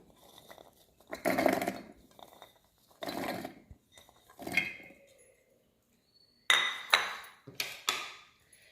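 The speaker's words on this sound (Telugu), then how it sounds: "మిక్సీ జార్ తీసుకుని ఫస్ట్ కొబ్బరి వేసుకుందాము." Coconut pieces tipped into a mixer jar for coconut chutney, landing in several separate knocking, clattering bursts with short pauses between them, fairly close and unaccompanied by any voice.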